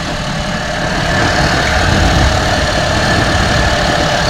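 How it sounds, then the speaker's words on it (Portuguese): A motorcycle fitted with a washing-machine motor, climbing a hill: a loud, steady mechanical drone that swells slightly partway through and carries on without a break, with no talking. "Nós conseguimos vencer o morro com o motor de tanquinho na moto."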